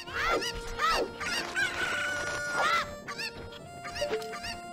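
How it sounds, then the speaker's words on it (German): Chickens in Kakariko Village in The Legend of Zelda: Ocarina of Time, with game-style rooster crows and clucks sounding in quick succession, close and clear, several calls overlapping with a faint tone underneath. "Will nämlich jetzt erstmal die ganzen Hühner hier rauskriegen."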